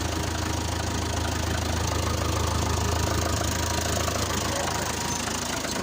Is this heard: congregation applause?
no